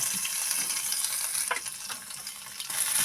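Curry leaves and ginger fry in hot oil, giving a steady high sizzle with a few sharper crackles and pops near the middle, heard close and alone without any voices.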